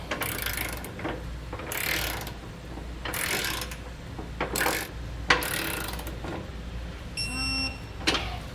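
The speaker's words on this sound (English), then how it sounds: "Now we want to go through with the torque wrench and torque them down to the specifications in our instructions." A torque wrench tightens trailer hitch hardware on a 2019 Ford Transit. Several ratcheting bursts come close up in an uneven rhythm, and a short electronic beep sounds near the end.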